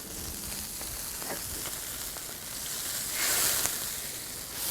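Fish bones and seafood simmer in a spicy Sichuan pot for water-boiled fish, giving a soft, steady sizzling bubble that swells briefly louder near the end.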